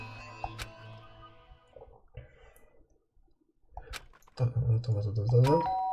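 A two-tone doorbell chime rings in the video game Danganronpa: Trigger Happy Havoc, clear and close over soft game music, followed by a pause and a louder swell of music and sound effects.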